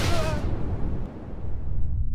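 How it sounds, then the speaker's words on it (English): A grenade launcher fires in a space station video game, giving a loud, near burst that decays into a long, fading rumble. "Grenade launcher into a space station."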